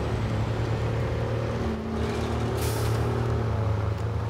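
Off-road truck engine in the MudRunner video game, a loud continuous low diesel drone with steady harmonics and a brief hiss of air midway.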